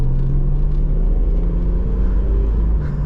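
A Holden VL Turbo, 80s Australian sedan, accelerates under load, a steady close engine drone and low rumble heard from inside the cabin, rising slightly and holding for a few seconds.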